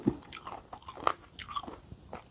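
Crisp bites into green mango, eaten with sweet fish sauce, crunch close to the mic, followed by moist chewing, with a few sharp snaps in an otherwise quiet stretch.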